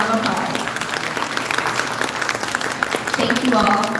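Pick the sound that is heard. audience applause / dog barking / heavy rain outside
audience applause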